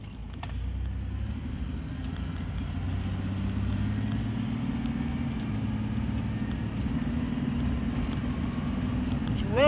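A black Ford Explorer's engine runs steadily while driving through downtown Toronto, a continuous low rumble with road noise that holds constant throughout, close and moderately loud, with no talking.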